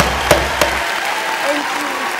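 An audience applauds with a steady, crowded clatter of hands and a couple of sharper claps standing out early. The applause is moderately loud and continuous, with a voice briefly audible.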